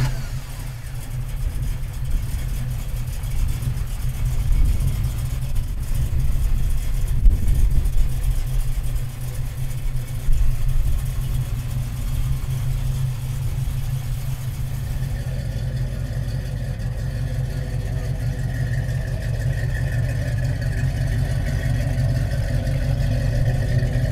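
A 1970 Dodge Challenger muscle car engine runs steadily at idle, a deep continuous low rumble held close and loud throughout with a brief swell of revs near the start and no talk over it.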